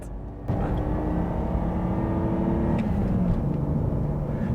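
A BMW E90 with a manual gearbox runs at a steady drone while driving, a continuous low engine and road rumble that holds fairly loud throughout after a brief quieter opening.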